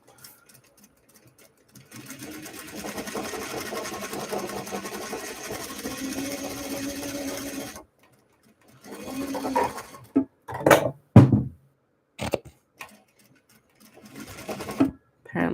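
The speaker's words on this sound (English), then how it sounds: "So I'll leave it on there until the bobbin's done." Sewing machine motor winds a bobbin in a steady, continuous whir lasting several seconds, then stops abruptly; afterward come scattered clunks, rustling and handling noises of thread and fabric.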